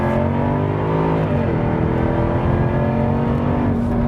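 A Jaguar F-Type R V8 AWD engine drones loud and close on the Nürburgring, its pitch climbing and shifting as it revs, with no talking.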